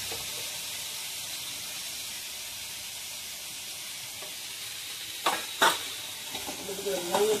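Potatoes with salt and turmeric frying in a pan give a steady broadband sizzle, broken near the end by a few louder scraping stirs of a spoon.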